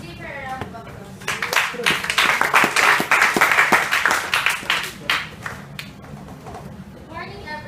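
A short round of applause for a speaker at a workplace diversity training program, a small group clapping distinctly for a few seconds, with voices talking before and after.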